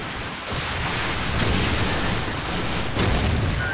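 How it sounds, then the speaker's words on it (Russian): Dense air-strike explosions and gunfire from Call of Duty 4: Modern Warfare in a hardcore domination match, a continuous loud wash of booms and shots with no clear gaps between them. "Наносим авиаудар."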